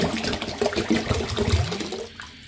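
Two bottles of cold water pour into a cooking pan (kadai) in a home kitchen, a steady near gush and splash that tapers off toward the end.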